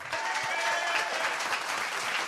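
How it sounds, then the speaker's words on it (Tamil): Audience applause from a seated crowd at a Tamil stage debate show, dense steady clapping filling the whole moment at an even level with no talk. "அவங்க கைத்தட்டுறது ஒலி மாசெல்லாம் கிடையாது"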